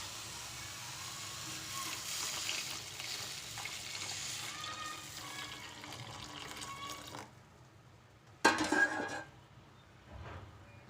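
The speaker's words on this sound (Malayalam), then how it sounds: "ഇനി നമുക്ക് അതിലേക്ക് പാലൊഴിച്ച് കൊടുക്കാം." Milk poured into a pan of bananas fried in ghee for banana kheer, a steady liquid hiss and sizzle for about seven seconds, then a brief louder clatter of a utensil against the pan.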